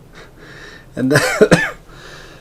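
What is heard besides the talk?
coughing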